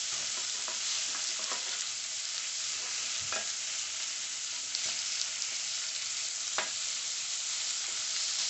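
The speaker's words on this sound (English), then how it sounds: "you just want to flip them fairly quickly and make sure you get that sear" Orange BBQ ribs sear in a hot pan with a continuous even sizzle, broken by a few brief clacks and scrapes as the pieces are flipped.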